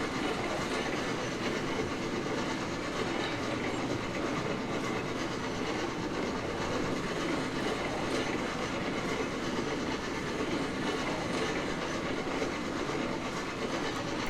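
A steam locomotive in the Railroads Online video game rumbles along the rails with continuous clickety-clack and steady mechanical noise, sounding dense and even throughout without talk.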